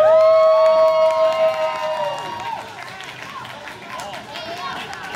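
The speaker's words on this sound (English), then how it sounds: "ladies and gentlemen, give a big round of applause" A mall crowd at a Japanese pop culture fiesta cheers and applauds the cosplay championship winner, with loud whoops and shouting voices over clapping throughout.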